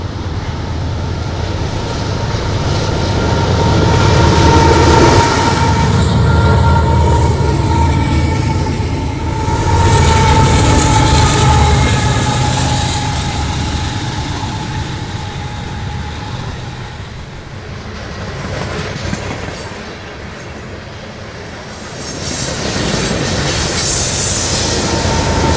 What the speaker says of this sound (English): One last Union Pacific freight, a coal train, rolls towards Chicago past the Metra station just prior to the evening rush.